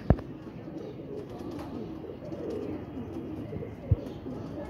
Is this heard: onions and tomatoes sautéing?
no